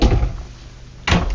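A soft-close dovetailed drawer in the bedroom of a 2022 Renegade RV, a short wooden rolling slide followed by a muted thunk as it shuts, loud and close with no voices.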